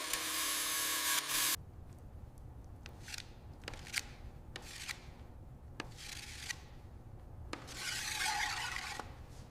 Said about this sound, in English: That's the key to block sanding smoothness.